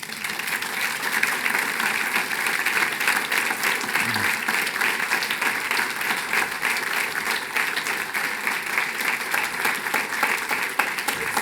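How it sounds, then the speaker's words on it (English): Steady, sustained applause from a luncheon audience at an annual business meeting and awards event, greeting an award winner; dense, even clapping fills the room throughout without a break. "please give her a round of applause to our winner, Stephanie Anderson"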